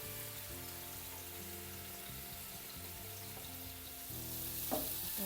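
Food frying in a pan while a fish curry is cooked, a soft steady sizzle that runs under a looping background melody, with no voices.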